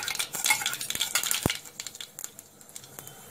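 Mustard seeds drop into hot oil in a kadhai, giving a dense crackle of sizzling and clinking at first that thins into scattered sharp pops and ticks, close and alone.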